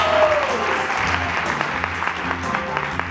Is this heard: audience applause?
yes